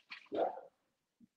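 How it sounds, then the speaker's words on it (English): A dog gives one short, sharp bark-like yelp nearby, followed after a pause by a brief, faint sound, with no talk during the clip. "Should be a dog coming down here"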